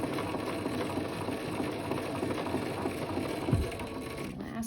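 A sewing machine stitches fabric for a menstrual pad, a continuous close mechanical whirring and ticking hum with a brief knock near the end and no talking.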